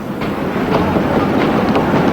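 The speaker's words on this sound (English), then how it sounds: "Train now arriving at platform 14 is the 9:50 for Grantham and King's Cross." A train pulls in at a platform at York station, a steady loud rumble and rolling clatter of rail wheels close by, with no talk.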